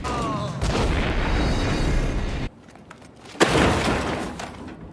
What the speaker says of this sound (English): Who is throwing this grenade?